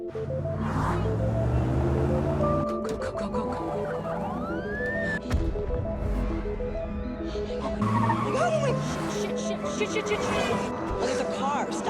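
In a film scene a car skids with screeching tires and sirens, the sounds overlapping and sweeping in bursts over a background score, with a crash-like hit near the middle.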